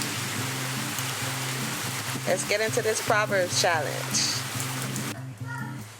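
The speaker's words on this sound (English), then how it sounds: "It is raining today" Steady rain falling outdoors on a rainy day makes an even hiss that runs throughout, while a person speaks over it in the middle and a short musical tone sounds near the end.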